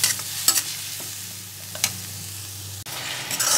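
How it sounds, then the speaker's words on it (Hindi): Ground onion and tomato masala for masoor dal sizzles as it fries in a pan, with a few short stirring scrapes close by. "चला के आप भून लेंगे ताकि मसाला आपका पक जाए।"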